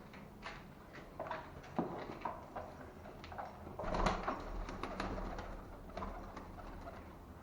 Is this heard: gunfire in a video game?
no